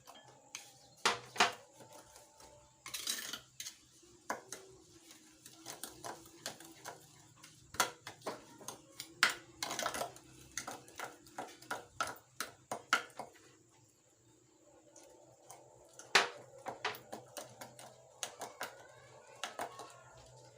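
Milk is mixed into cupcake batter in a bowl, with sharp intermittent clacks and taps of a utensil against the bowl, irregular bursts separated by quieter gaps, close and moderately loud.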